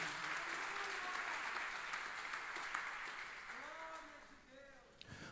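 A church congregation applauds, a soft, steady wash of many hands clapping heard at a distance, with voices and a speaking tone rising through it toward the end.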